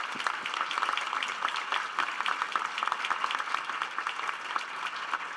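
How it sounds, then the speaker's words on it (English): Audience applause at a young scientists' conference, steady dense clapping from a large crowd held at an even level for several seconds with no speech over it. "she and her team deserves a very loud round of applause"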